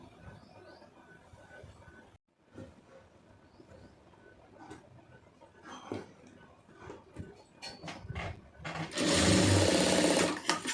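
A domestic sewing machine stitches the cut neck piece onto a plain blouse, its motor whirring in short bursts, then running loud and steady near the end, with faint bird coos in the background.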